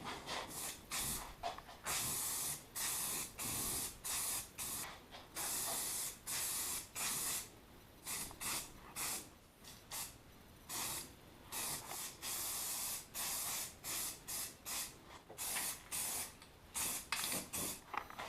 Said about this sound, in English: spray it down with black primer and paint.